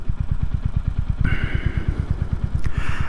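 A 2023 Royal Enfield Hunter 350 motorcycle idles at a stoplight, its single-cylinder engine thumping in a steady, even rhythm up close, with some passing traffic noise rising in the background.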